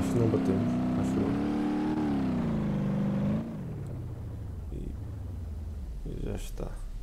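A 1972 Gavril Bandit engine in BeamNG.drive revs and accelerates with a steady droning note that rises and falls, then drops off to a quieter idle.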